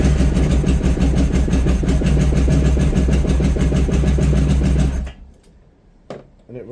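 A 1991 Honda ST1100 Pan European motorcycle engine runs close and loud with a steady rhythmic thrum, then cuts out abruptly, leaving near-silence and a brief clatter.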